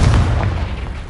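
A Confringo fire spell detonates in the Hogwarts game as a loud, booming blast, with heavy low rumble that holds at full strength for about a second and barely fades.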